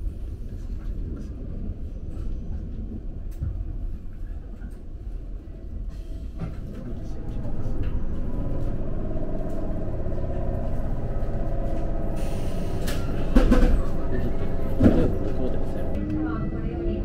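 A Toyama Regional Railway train pulls into Terada Station with a steady low rumble that swells midway, then brief squeals and clanks near the end, with voices speaking throughout.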